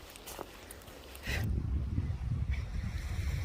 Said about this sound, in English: It's super windy here, as I'm sure you can hear and probably see.